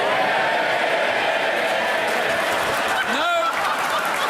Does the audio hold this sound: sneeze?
no